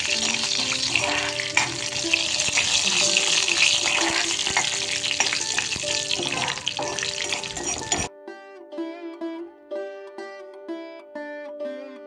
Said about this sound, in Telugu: ఇక ఆవాలు, జీలకర్ర చక్కగా వేగాలి